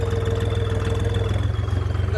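A tractor engine idles steadily at a loading spot before a trolley-pulling competition, a continuous low rumble with a faint whine, close and alone with no talk.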